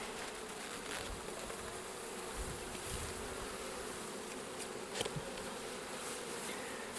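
A steady, dense buzzing of many honeybees in an opened hive during a spring check fills the clip, close and continuous, with occasional sharper hums as individual bees pass near.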